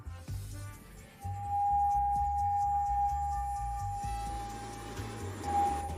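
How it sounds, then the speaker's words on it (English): A 3i S10 Ultra robot vacuum's station emptying dust: a loud, steady mechanical whir with a sustained tonal hum, running continuously for several seconds with low rumbling pulses underneath and no talking. "The dust collection sounds like this."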